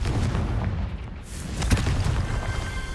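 A Confringo blasting spell in Hogwarts Legacy erupts in a dense, booming burst, a loud, close rumble with a sharper crack partway through, carrying on steadily for about three seconds without speech.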